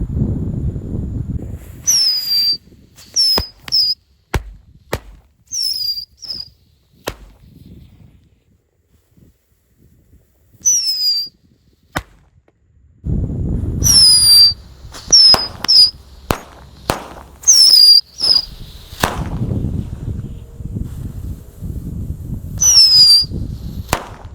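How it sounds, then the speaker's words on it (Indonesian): Small mercon tikus firecrackers fizz and whistle with sharp squealing pops, going off in quick irregular bursts between stretches of near quiet. "Mercon tikusan dengan pesawat mainan ukuran kecil guys"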